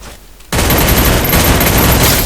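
Loud, sustained burst of rapid automatic gunfire from a P90 in the Free Fire video game, starting abruptly after a brief quiet moment and continuing as a dense, unbroken rattle.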